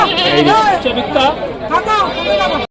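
Wavering bleats of goats and kids mixed with nearby people chattering at an animal market, several calls overlapping in a busy, close setting.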